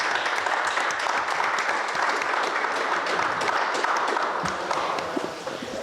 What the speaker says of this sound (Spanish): Pues igual les pido por favor un aplauso para la doctora.